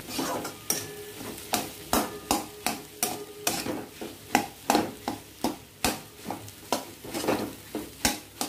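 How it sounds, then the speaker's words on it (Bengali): Jackfruit seed paste is stirred into fried onion, garlic and chili in a pan, giving rhythmic scraping strokes at a steady pace of about two per second over a low sizzle, with no speech. "এবার কাঁঠাল বীজ বাটাটা আমি এই ভাজা পেঁয়াজ আর রসুন লঙ্কার মধ্যে দিয়ে দিলাম। দিয়ে এটাকে এবার একটুখানি সব কিছুর সাথে ভালো করে মিশিয়ে নেব।"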